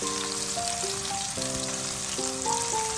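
Sliced onion and green chillies crackle in hot oil in a home kitchen, a steady, close sizzle with a faint tonal hum running underneath and no voices.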